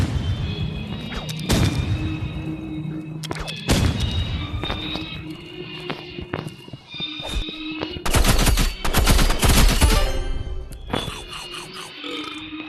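Sniper rifle shots and other gunfire ring out in a Roblox shooting game, with loud, sharp cracks spaced across the clip and a dense burst of rapid firing late on.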